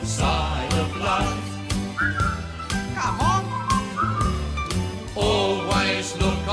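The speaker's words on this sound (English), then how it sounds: "just purse your lips and whistle, that's the thing" A cheerful whistled melody plays during a sing-along of a comic song, with short bright whistled phrases woven through a full band accompaniment.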